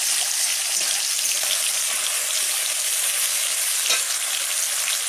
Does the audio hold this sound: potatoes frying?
yes